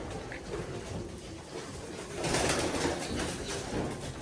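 Racing pigeons coo softly in a loft, a faint, low murmuring amid a rustling hiss that swells briefly halfway through.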